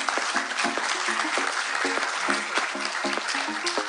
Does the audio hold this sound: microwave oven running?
no